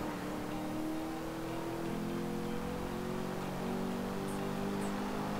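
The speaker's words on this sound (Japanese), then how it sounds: "マシン変わったなんかエンジン音が違う" A race car engine in Need for Speed Rivals drones steadily at high revs, a continuous whirring roar with a slight rise in pitch, like racing game audio.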